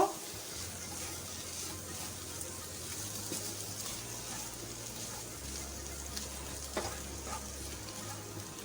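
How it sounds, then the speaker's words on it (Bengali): Spiny gourd frying in a pan with salt and spices, a quiet continuous sizzle with faint scraping of stirring, close by, under a low steady background hum. "লবণ আর মশলাটা দিয়ে ভালো করে আমি নেড়ে চেড়ে দিচ্ছি"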